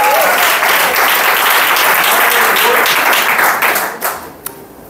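Enthusiastic applause from a church congregation during a family service, a thick wash of clapping from many people that holds steady and then fades out over the last second with a few stray claps.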